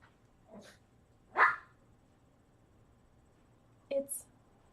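A dog barks indoors in a few short, separate bursts spread across the clip, fairly near. The barks are moderately loud against a quiet room, and a couple come in quick succession near the end.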